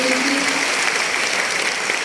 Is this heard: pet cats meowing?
no